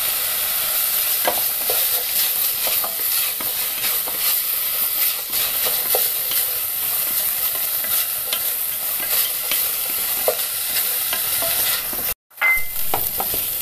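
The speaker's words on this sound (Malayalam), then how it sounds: "സവാള ആവശ്യത്തിന് വഴന്നിട്ടുണ്ട്" Onions sauté in a pan with curry leaves for a potato and vegetable curry, giving a steady, close, dense sizzle with faint stirring scrapes that cuts out briefly near the end before resuming.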